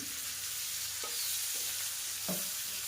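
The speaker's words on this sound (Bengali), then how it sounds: "পেঁয়াজটাকে প্রথমে একটু ভাজা করে নেব" Onion fries in a pan with a steady hiss, joined by a few soft scrapes and taps of a utensil stirring; no voices present.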